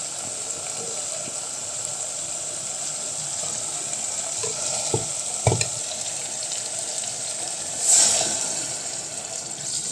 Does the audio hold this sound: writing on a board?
no